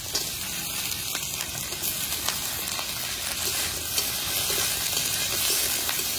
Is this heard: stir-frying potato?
yes